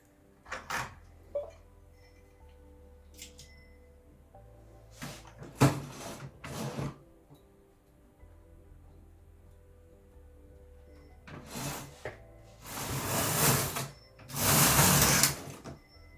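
A carriage on a 4.5mm standard knitting machine slides across the needle bed in several loud rasping sweeps, with quieter clicks and mechanical rattles between passes, no talking.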